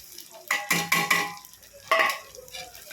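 Semolina (rava) for white upma is stirred and roasted in a pan: a few scraping, clinking strokes of a spoon against the metal, with short pauses between them.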